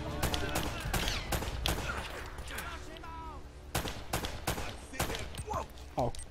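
Gunfight with grenades in Uncharted: Drake's Fortune: bursts of rapid gunfire and sharp blasts come in clusters, with a voice talking in between.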